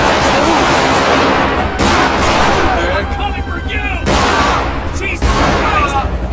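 Loud bursts of gunfire in GTA V with the LSPDFR police mod during a road-rage stop, several sharp volleys with short gaps, heavy and close amid game noise.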